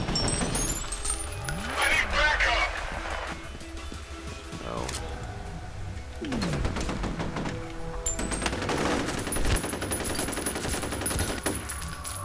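Gunfire from the first-person shooter F.E.A.R., with rapid bursts and scattered shots layered over game music and effects, fairly loud throughout the passage.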